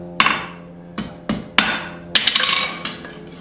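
Sharp metallic hammer blows ring out on the jaws of forging tongs, a few spaced strikes and then a quicker cluster of rebounding taps, each loud, close and bright with a short decaying ring.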